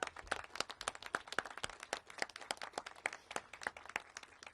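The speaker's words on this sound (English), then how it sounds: "Big round of applause." A small audience claps at an outdoor press conference on the restoration of a historic residence, sharp distinct hand claps in an uneven, sparse rhythm that sound fairly close and faint overall.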